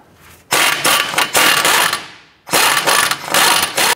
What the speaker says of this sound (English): Using an 18mm deep socket, we're going to go ahead and loosen our tie rod and nut.